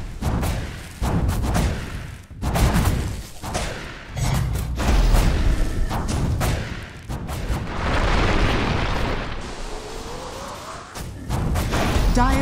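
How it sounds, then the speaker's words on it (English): Battle sounds from a tower under attack in Dota 2, a busy mix of thuds, booms and impacts with layered game effects, loud and continuous throughout. "Dire's top tower is under attack."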